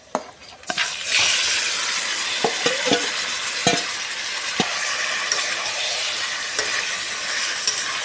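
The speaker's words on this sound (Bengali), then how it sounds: "এবার এর মধ্যে আমি দিয়ে দেব ম্যারিনেট করা চিকেনটা" Marinated chicken added to frying onions in a pan, giving a loud steady sizzle after a short quieter start, with a few sharp clinks and stirring knocks of a utensil against the pan.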